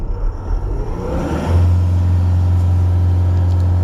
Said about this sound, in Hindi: जैसे गाड़ी स्टार्ट है अभी हमारा